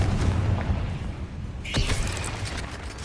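Confringo blasting spell exploding in Hogwarts Legacy, a single sharp burst with a brief whooshing tail standing out over steady game background noise.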